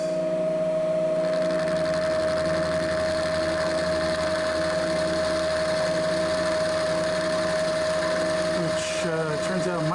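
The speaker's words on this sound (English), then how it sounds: "I'm running the mill really slowly, just taking off 35 thousandths." A milling machine cuts slowly through metal, taking a shallow pass, with a steady high whine and motor hum throughout and a brief scraping change near the end.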